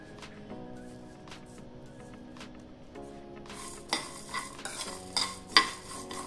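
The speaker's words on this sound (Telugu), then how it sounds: "అలాగే ఎండు కొబ్బరి ముక్కలు, ధనియాలు అన్నీ వేసుకొని దోరగా వేపుకోవాలి" Dry coconut pieces and coriander seeds roasting in a pan, with a steady scrape of stirring and a few sharper clinks of the utensil against the pan in the second half, fairly faint and with no voices.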